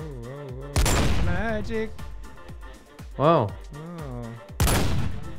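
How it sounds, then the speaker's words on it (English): Gunfire crackles in a Minecraft game battle against Papa Smurf and Bendy, with two loud, sustained bursts of rapid shots several seconds apart, heard under excited voices talking and reacting. "you're getting good at avoiding these shots now"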